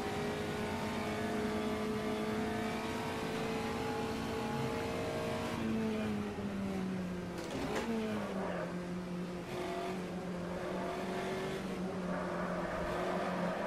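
Puma GTE race car in the Automobilista racing simulator, a loud continuous engine note holding steady, then dipping and climbing again through gear changes, with no talk.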